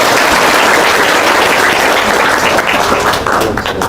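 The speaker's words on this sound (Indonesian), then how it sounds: "Tepuk tangan dulu dong." Dense, sustained applause from a large audience, loud and steady throughout before tapering slightly at the end.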